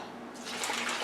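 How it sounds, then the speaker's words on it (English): Water is poured from a six-ounce glass into a cooking pot for ham bone and black-eyed peas, a soft splashing pour that begins partway in and grows fuller, with no talk. "Now we're going to add our water."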